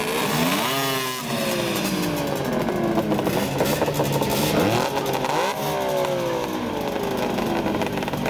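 Loud, continuous engine roar with repeated revving sweeps rising and falling, two vintage modified racing snowmobiles idling and blipping throttles close by, no talk.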